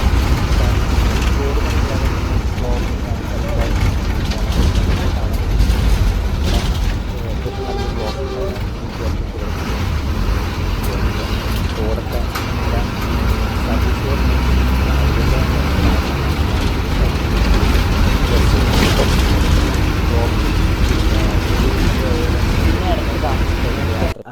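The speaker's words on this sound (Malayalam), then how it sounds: "പവറുള്ള ബസ് കേട്ടോ നല്ല സ്പീഡ് പോകുന്നുണ്ട്" A powerful KSRTC bus engine drones at speed on a narrow forest road toward Bangalore, loud and continuous with road rumble and rattles, as a voice talks over it throughout.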